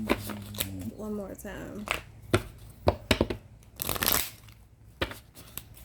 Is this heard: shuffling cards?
yes